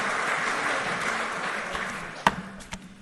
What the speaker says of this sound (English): Another round of applause for our quintet from the 2nd Marine Division Band and our color guard from Wounded Warrior Battalion East.